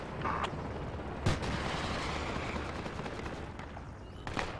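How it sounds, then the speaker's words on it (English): Enemy close air support aircraft strafing a position in the Project Reality military game, a dense continuous roar of distant gunfire with a sharp crack near the start and another burst near the end, no talk. "I think this is enemy CAS shooting at us right now"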